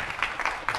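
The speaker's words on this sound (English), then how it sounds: "We don't permit applause in the gallery." Applause from the gallery of a senate chamber, a short burst of rapid, dense clapping from a small crowd, moderately loud and steady throughout its brief length.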